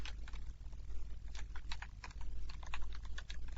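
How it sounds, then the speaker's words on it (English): Rapid, close keystrokes clatter on a computer keyboard during a programming lesson, a steady run of uneven clicks with no voice over them. "If you just start typing"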